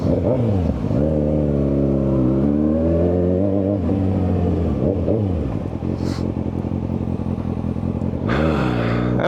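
A Kawasaki ZX6R sport motorcycle idles close by and is revved repeatedly, its engine note sweeping up and dropping back in sharp, loud bursts.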